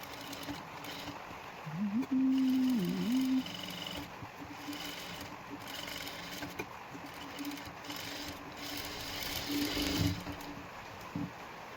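Electric sewing machine stitching a princess-cut blouse, its motor whirring steadily with a brief rising burst, then a quieter hum and a short final run of stitches, heard alone and fairly close.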